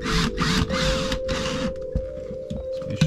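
A power driver sinks drywall screws in several whirring bursts, each about half a second long, close and loud, followed by quieter clicks and handling noise.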